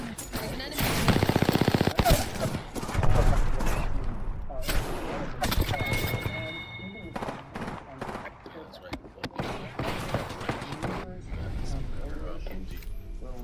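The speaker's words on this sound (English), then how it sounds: "the F-16 is incredibly well integrated as far as weapon systems with that gun" An F-16's internal gun firing in bursts of rapid fire, with sharp repeated shots and louder blasts mixed in, under and between someone talking.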